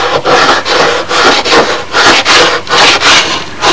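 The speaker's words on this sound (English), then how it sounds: "And to sand in this dimension, not back and forth, because you're making flats then." Sandpaper is rubbed by hand over the wooden engine nacelle of a model B-25 bomber, making about eight loud, close, rhythmic rasping strokes one after another.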